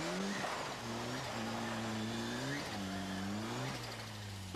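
A four-wheel-drive rally car stuck in a ditch at the 1994 Townparks Rally revs repeatedly, its engine tone rising and falling in sustained surges, loud and close with a faint commentary voice underneath.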